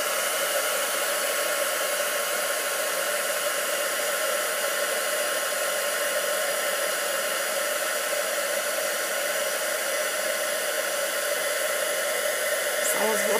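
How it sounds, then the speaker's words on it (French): An embossing heat gun blows with a steady, loud, unbroken whoosh throughout, close up and alone. "Et je viens chauffer au fer embossé. Je m'excuse pour le bruit"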